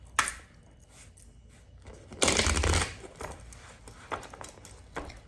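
Tarot cards are shuffled close by, a soft riffling with a louder burst of rapid flicking midway, then lighter scattered card sounds.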